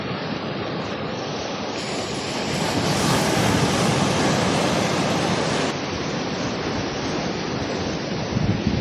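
Ocean waves crash and roll along a shore near a road, a dense, continuous roar of surf swelling louder in the middle, mixed with wind buffeting the microphone and no speech.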